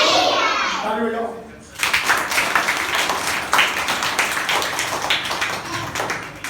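A group of children clapping their hands in a lesson, with rapid uneven claps from many small hands close by, starting after a short stretch of an adult speaking and carrying on steadily with some voices mixed in.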